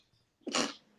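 A single sharp, loud sneeze bursts out close by in a quiet room, a brief explosive blast after a faint intake of breath.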